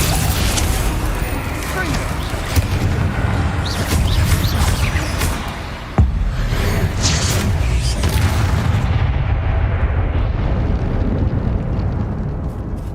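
Explosive spell impacts from the Hogwarts Legacy video game, a dense, continuous barrage of booming blasts with a sharp hit near the middle, over a busy battle backdrop, with voices calling out spells throughout.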